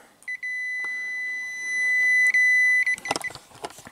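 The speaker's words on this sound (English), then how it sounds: "with our meter on the beeping scale" A multimeter's continuity beep sounds repeatedly while testing a Chrysler PT Cruiser's TIPM circuit board, held for a second or more each time, with brief clicks and rustling near the end.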